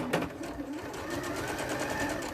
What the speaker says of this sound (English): I would stay stitch this just inside your seam allowance. So I'm going to stitch forward